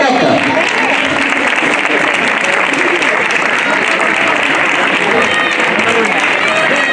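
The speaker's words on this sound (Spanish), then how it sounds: "Un aplauso a estos campeones" Sustained, loud crowd applause at an outdoor race awards ceremony, a dense unbroken wash of clapping for the winners lasting the whole stretch.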